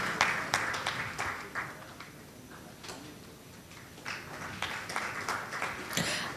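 Audience applause at a panel discussion on direct tax issues, a light scattering of individual claps rather than a full roar, fairly faint and uneven, swelling slightly toward the end.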